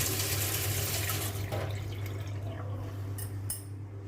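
Tap water gushing steadily from a household tap as the supply comes back, a continuous close rush over a low steady hum, with no talking.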